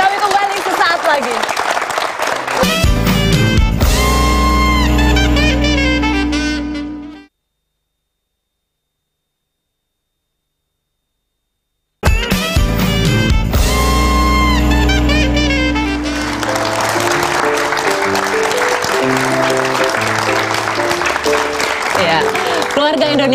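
Studio audience on an Indonesian television talk show applauding loudly and continuously, broken by a few seconds of silence before more loud clapping with music underneath.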